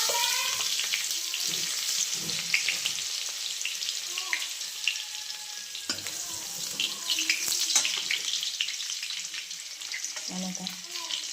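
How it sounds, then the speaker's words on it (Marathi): Mustard seeds sizzle in hot oil with a steady bright hiss and scattered crackles, joined by stirring clatter and a short burst of running tap water, all fairly close and without speech. "तेल गरम झाले आता थोडीशी मोहरी"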